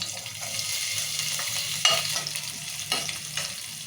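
Thin-sliced green chillies fry in hot oil for an egg curry, a steady close sizzle with a few louder stirring scrapes and bursts partway through.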